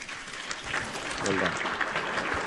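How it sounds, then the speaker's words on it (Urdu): Studio audience on a television talk show applauds in a loud, sustained burst of clapping while a host's voice carries over it. "بہت بہت شکریہ ان دونوں کا, بھرپور تالیاں."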